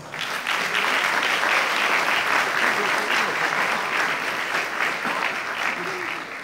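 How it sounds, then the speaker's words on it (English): A school audience at Bishop Anstey and Trinity College East gives a speech a round of applause: dense, steady clapping fills the whole stretch at close range and stays loud throughout, with no voices on top. "And I want you to give the directors of this school a splendid round of applause."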